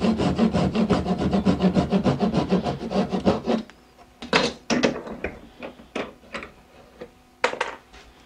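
A piece is cut off by hand while building a DIY double-nozzle spray gun, a fast rhythmic run of close rasping saw strokes for a few seconds, then scattered scrapes, knocks and handling sounds.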